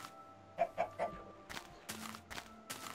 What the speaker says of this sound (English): Don't kill both chickens.